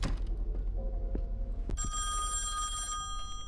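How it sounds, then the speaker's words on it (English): A telephone rings in the horror video game Song of Horror, a sharp electronic bell tone that starts partway through and holds steady over a low ambient drone. "here we go with the ringing of the phone again"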